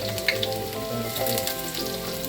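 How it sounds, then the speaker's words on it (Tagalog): Onion and garlic fry in hot oil in a pan, giving a steady, soft sizzle with a few light pops over a faint tonal hum. "mainit na ng ating kawali na may matika. Yun ating sibuyas saka bawang."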